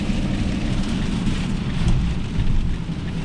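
Steady rain pours through a severe storm carrying hail warnings, heard from inside a camper van on a New York street, a dense continuous wash with heavy low rumble throughout and no voices.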